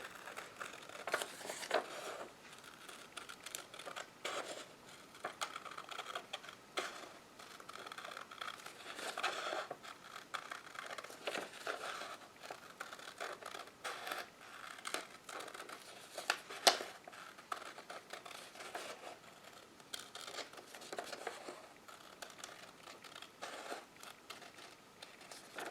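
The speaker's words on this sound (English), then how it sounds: "we're just going to line our scissors up, and then we're going to go slowly and squeeze and turn" Scissors cut paper slowly, with soft, repeated snipping and crinkling, quiet and close, with irregular cuts and rustles spread across the whole stretch.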